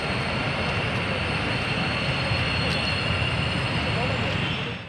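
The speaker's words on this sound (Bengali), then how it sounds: "মেট্রো এসে থামছে মেট্রো স্টেশনে।" A metro train pulls into Sai Baba metro station with a loud, steady rumbling roar and a faint high whine, fading slightly as it comes to a stop.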